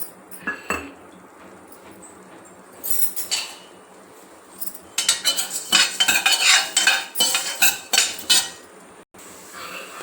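A spoon stirs and scrapes coriander and cumin seeds dry-roasting in a metal pan, scattered clinks early, then a dense run of rapid scraping strokes, close and fairly loud.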